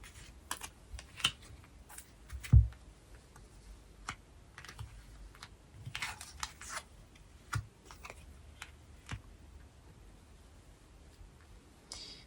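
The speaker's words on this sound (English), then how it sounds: "Let's just turn these cards over and then continue with the reading." Tarot cards are turned over and placed, giving soft scattered taps and flicks, quiet and close, with one louder thump and no talking.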